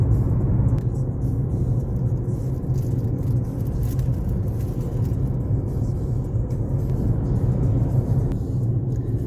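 A car driving along a road in Khabarovsk, Russia, with a steady low engine rumble and tire noise filling the cabin continuously, close and even throughout.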